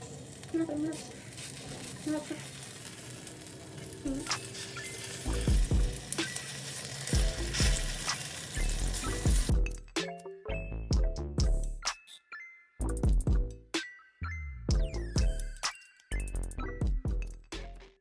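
Ivy gourd (kovakka) fries in a pan, a steady close sizzle broken by stirring scrapes and utensil clinks, with someone talking over it in places and occasional louder metallic knocks later.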